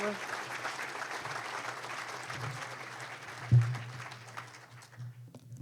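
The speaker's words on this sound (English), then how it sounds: "Let's give him a round of applause." Audience applause at a City Club event for the CEO of the Metropolitan Pier & Exposition Authority: steady clapping from a room of listeners that slowly thins and fades, with a thump partway through.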